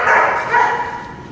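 Reactive dog barking during a training session, with a single drawn-out, strained bark-whine rising and falling over roughly a second, fairly loud and close.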